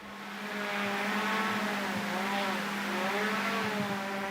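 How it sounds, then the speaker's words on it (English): Drone descending toward Wandsworth Prison in South London at night, a high, whining rotor buzz rising and falling in pitch, fairly faint and steady over a few seconds with no talk. "That's the sound of a drone making its descent into the prison."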